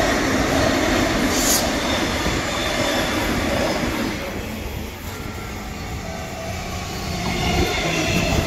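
Old train rolling through Toombul station, a loud, continuous rumble of wheels on rail with a brief high squeal, steady and close, with no voices.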